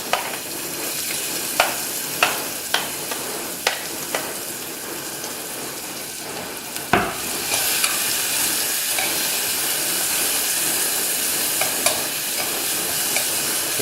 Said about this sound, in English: we'll fry this for a while until the onions are soft